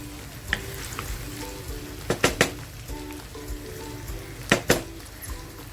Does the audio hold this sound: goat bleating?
no